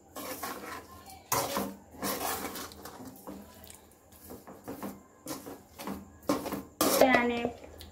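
Bottle gourd halwa stirred with crushed peda in a pan, irregular bursts of spoon scraping and clattering against metal, loud and close, mixed with stretches of talking.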